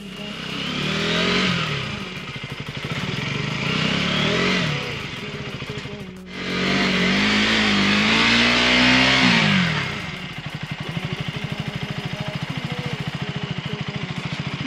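A motorcycle engine revs hard in long surging bursts while stuck in snow, dipping briefly between them, then settles into a rough, throbbing idle.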